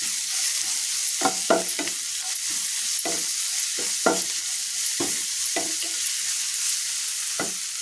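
Burnt brinjal chutney with garlic, garam masala and cumin powder frying in a pan: a steady close sizzle broken by repeated spoon scrapes and stirring strokes at an irregular pace, with no talking.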